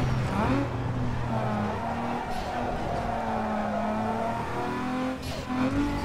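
A car drifts through a street race in Need for Speed Underground 2, its engine droning steadily and loud with sliding tire noise throughout, while a voice speaks briefly in the background.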